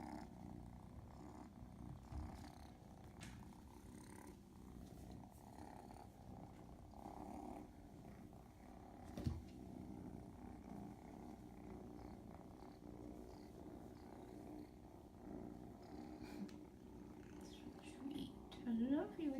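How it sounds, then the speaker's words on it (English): Foster kittens purr close up in a continuous low rumbling drone for nearly twenty seconds, with someone talking softly over them in places and some rustling handling noise. "You guys are just all full of purrs."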